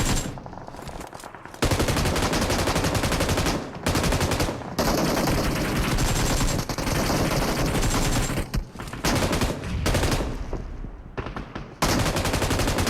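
Video game gunfire sounds in long, dense automatic bursts. It is loud and close, broken by short gaps over about thirteen seconds.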